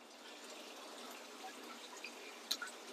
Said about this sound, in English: I'm starting to fill that tank up with this tank water here. So I just basically got a siphon running from here down into the 40 breeder